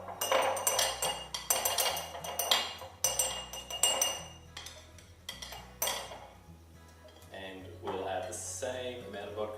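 Gooey chocolate mixture is scraped into a jar, giving a string of close, uneven clinks and scrapes of a utensil against glass that come in bursts and then ease off.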